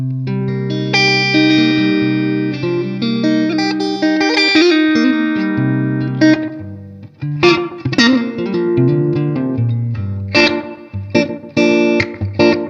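An electric guitar with effects rings out sustained chords, then plays sharper rhythmic stabs and short phrases, loud and close.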